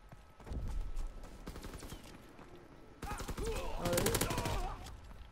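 BAR rifle fire in a World War II video game: rapid bursts of automatic gunshots, with a sharper, denser volley in the second half, loud and close.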